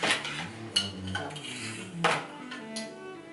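Chocolate muffin batter being stirred in a bowl with a utensil, heard as a run of close, ringing clinks and scrapes against the bowl in an uneven rhythm, with no talk over it.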